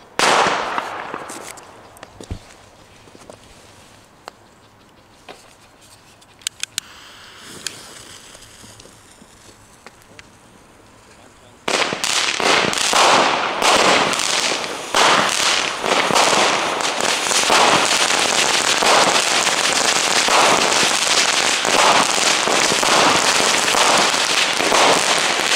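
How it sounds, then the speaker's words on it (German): A Lesli Chili Pepper firework fountain burning: a quiet stretch with a few faint pops gives way to a loud, steady hissing and crackling spray that runs on without a break to the end. "Wir gleich weiter mit der nächsten Fontäne."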